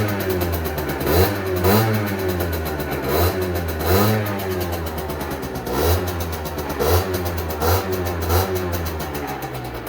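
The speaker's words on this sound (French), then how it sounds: "Et donc, le petit bruit du pot." Sherco motorcycle exhaust revving inside a garage: a loud, close engine with repeated throttle blips rising and falling in pitch roughly every second or two over a rough idle, echoing in the enclosed space.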